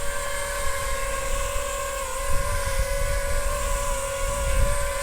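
A DJI FPV drone hovers nearby with a steady, high-pitched whining buzz of its propellers, continuous and fairly loud, with some wind rumble underneath.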